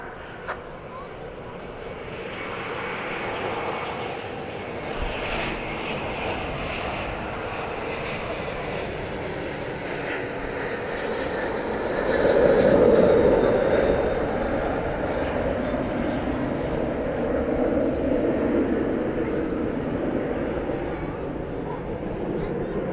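An airliner passes at DFW Airport on a hot summer evening, a broad engine roar that swells to a peak near the middle and then lingers at steady strength, with voices talking faintly underneath.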